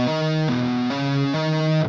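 Ascending legato run on a distorted electric guitar, sustained notes shifting in a few smooth steps over a couple of seconds, loud and close with no talking.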